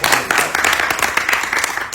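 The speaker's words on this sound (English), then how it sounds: "Can we clap our hands together?" A comedy show audience claps along steadily, a dense wash of many hands with a few sharper claps standing out, close and continuous throughout.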